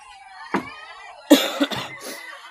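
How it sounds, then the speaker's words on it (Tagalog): Someone coughs close by, a short cough followed by a louder double cough, with quiet breathing between. "Inubo ako."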